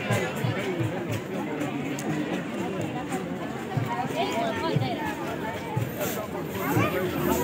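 Crowd chatter fills a Republic Day bhajan kirtan gathering in Kullu, a steady murmur of many voices with occasional hoofbeats of a horse nearby, while a nearby person also talks.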